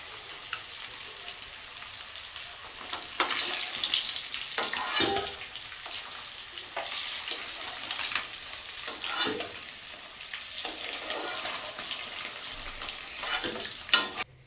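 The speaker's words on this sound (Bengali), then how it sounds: "গাজর ভাজা বসিয়ে দিয়ে আসলাম, গাজর আর ওই বরবটিটা।" Carrots and yardlong beans fry in a home kitchen pan, giving a steady close sizzle broken by intermittent stirring scrapes and clatters, with no one talking.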